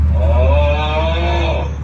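A single drawn-out cow moo plays loudly and close as a custom Tesla lock sound, a low bellow over a deep steady hum.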